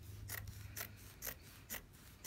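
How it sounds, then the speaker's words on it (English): Sewing scissors snip into the fold of kitchen towel fabric, four crisp evenly spaced cuts ringing out close and clear in a quiet room. "I'm going to take my scissors and just go into this fold and cut it."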